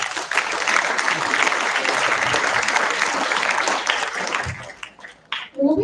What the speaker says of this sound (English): I request all of you to welcome our judges with another huge round of applause.